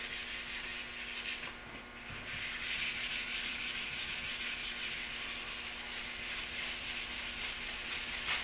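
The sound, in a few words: block sanding the Duramax truck hood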